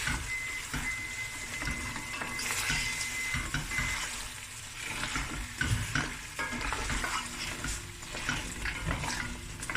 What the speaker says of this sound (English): You just cook through the tomato paste.